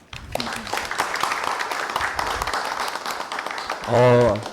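A conference audience breaks into a short burst of applause near the end, dense clapping that swells briefly after a stretch of amplified speech from a man at the podium.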